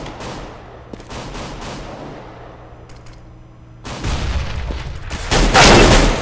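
Gunfire in Counter-Strike on de_mirage: scattered sharp shots at first, then a dense, loud burst of rapid fire after a few seconds, with no talking.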